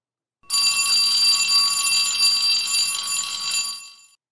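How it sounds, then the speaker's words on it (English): A loud, shrill metallic bell rings continuously for about three and a half seconds, starting abruptly and tapering off at the end. "While the alarm clock sound is loud."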